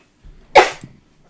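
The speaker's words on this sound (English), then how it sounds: "Bless you." A single sharp sneeze bursts out close by after a brief intake of breath, short and loud against an otherwise quiet room during a tabletop card game.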